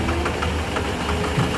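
A Powerman generator engine with a faulty speed controller runs unevenly, a loud close knocking drone whose pulses surge and falter over a short stretch.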